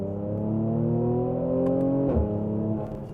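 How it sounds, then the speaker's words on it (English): Mercedes-AMG C43 exhaust pulls hard under acceleration, a loud, steady engine note climbing in pitch for about two seconds, then a brief dip at a gear change before the drone carries on, close and alone with no talk. "And the exhaust sounds good, like surprisingly good."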